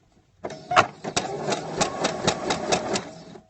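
Sewing machine stitching stretched spandex for a costume, a steady close run of rapid needle clatter with sharp rhythmic thumps lasting about three seconds.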